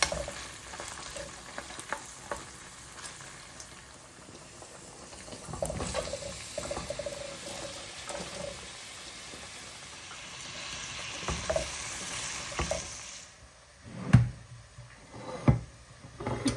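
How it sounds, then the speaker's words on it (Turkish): Meat, onion, pepper and garlic sizzle steadily in a hot pan, with occasional stirring and scraping and a few louder clatters toward the end. "Kavrulan etlerimizin üzerine doğramış olduğumuz soğan, biber ve sarımsağı ekliyoruz."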